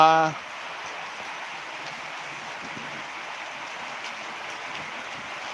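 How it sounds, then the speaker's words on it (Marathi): Steady rain falls in an even, unbroken hiss that runs throughout at moderate level, after a short burst of a voice at the very start. "पावसाचा आवाज आलेला"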